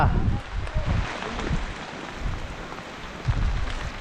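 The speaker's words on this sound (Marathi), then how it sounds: "ट्रेक बाकी होता आणि आला पाऊस पाऊस एवढा आला की रेनकोट चढवावा लागला" Steady rain patters down outdoors on a hill trek at Gorakhgad, with a gusty, rustling wash of noise, while a voice speaks faintly underneath.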